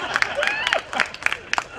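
Scattered applause from an audience at a humorous talk, a few sharp claps standing out near the end of a short, moderately loud burst, with voices mixed in.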